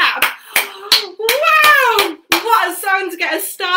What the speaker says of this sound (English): Give yourselves a great big clap.